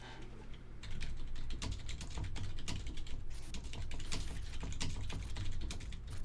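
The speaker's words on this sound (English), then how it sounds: "A lot of typing." Continuous rapid typing on a computer keyboard, close and crisp, with dense irregular key clicks and no talking.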